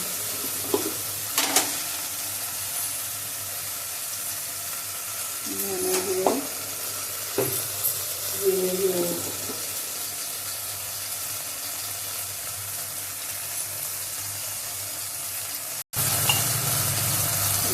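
Spices with salt and turmeric sizzling in hot oil in a pan for Bengali egg curry, a steady broadband frying hiss with a few scraping stir strokes near the middle.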